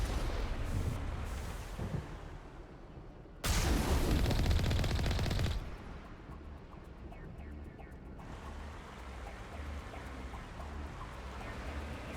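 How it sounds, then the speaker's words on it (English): Video game gunfire erupts in a loud, dense burst of shots partway through, surrounded by rumbling combat ambience and scattered quieter cracks. "Shots."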